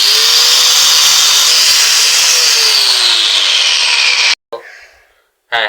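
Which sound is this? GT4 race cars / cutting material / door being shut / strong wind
cutting material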